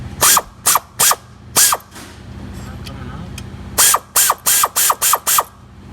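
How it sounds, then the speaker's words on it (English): A power tool ratchets in short bursts while removing parts for an Acura TL timing belt replacement, two quick pulses, a pause, then a run of rapid rattling bursts, loud and close. "you need to get used to using the power tool"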